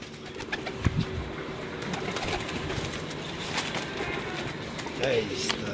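Racing pigeons on a rooftop coo softly amid steady outdoor background noise, with voices talking nearby throughout.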